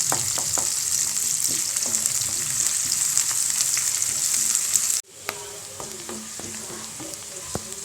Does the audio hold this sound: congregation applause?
no